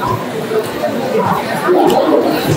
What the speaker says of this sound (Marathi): खूप जास्त गर्दी आहे बघा मित्रांनो इथं.